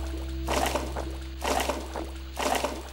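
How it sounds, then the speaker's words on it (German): Watering plants in the video game Garten-Simulator 2010: three short splashing, pouring bursts at an even rhythm over a constant low hum, fairly soft. "Und gießen."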